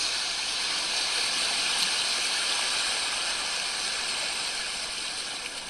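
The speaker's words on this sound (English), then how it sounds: "Occasional little wave rippling into shore." Small waves ripple gently onto the shore of a calm sea, a soft, continuous wash of water at steady low level, easing slightly toward the end.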